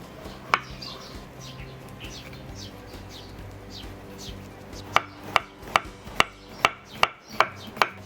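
A knife thinly slicing peeled, seeded cucumber on a cutting board, a few scattered cuts followed by a quick, even run of about eight crisp, close chops toward the end.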